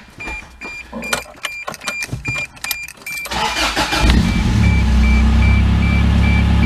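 A Toyota engine fitted with a new muffler starts up after several clicks and knocks, then runs loudly and steadily with a deep rumble at close range, alone.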